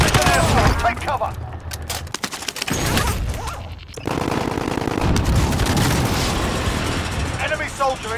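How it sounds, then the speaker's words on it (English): Rapid automatic gunfire and booming airstrike blasts fill a Call of Duty: Modern Warfare plunder match, loud bursts with brief gaps, while a voice speaks over the battle. "Enemy civilian airstrike. Take cover."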